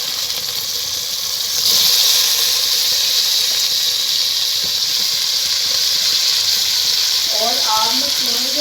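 Chicken dropped onto browned onions in a hot pan bursts into a loud, close hissing sizzle that holds steady. A voice briefly starts speaking near the end.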